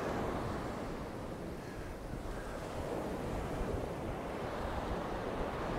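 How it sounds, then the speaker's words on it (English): Waves washing onto a beach in Spain, a steady, loud, continuous surf roar mixed with wind buffeting the microphone, with no voices. "stood on a beach in Spain"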